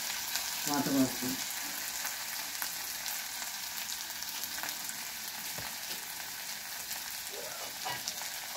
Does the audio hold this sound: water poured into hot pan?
yes